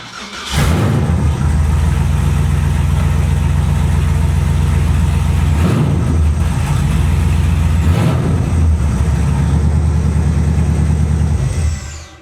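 An LS-swapped truck that has sat untouched for about a week catches at once in roughly -10 °C cold, then settles into a steady, loud, close idle with a deep even rumble for about eleven seconds before cutting off.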